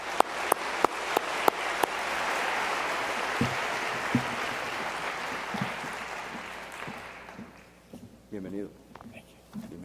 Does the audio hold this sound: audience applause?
yes